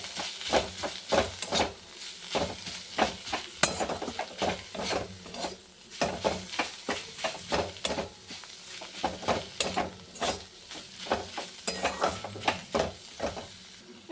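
Greens cooked with eggplant are stirred in a frying pan, giving repeated scraping, clattering strokes over a steady sizzle and hiss, close and moderately loud, with no voices.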